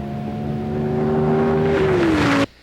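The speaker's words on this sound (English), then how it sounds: "the power of a V10 engine" A 1992 Dodge Viper RT/10 roadster's V10 engine revs up in a steady rising drone, pitch dipping near the end before cutting off abruptly, loud and close with no talk.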